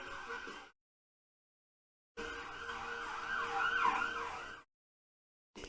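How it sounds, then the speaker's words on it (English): A wailing emergency siren rises and falls in bursts, cut by stretches of silence, moderately distant with faint road noise beneath. "Wow, look at all those sirens."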